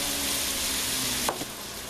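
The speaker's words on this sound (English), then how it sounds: "if you're frying these on the stove in a pan" Onion strings frying in hot oil in a pan on the stove, a steady close sizzle with a brief louder crackle and pop as more onions go in partway through.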